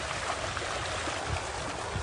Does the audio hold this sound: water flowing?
yes